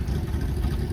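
A 1961 Chevrolet Corvette "Fuelie" with a four-speed and hardtop idles close by, its engine holding a steady, low, even rumble alone for a moment.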